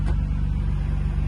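A Nissan Skyline R33 engine idles steadily in a short burst, a loud, close, low rumbling drone with an even throb and no talk over it.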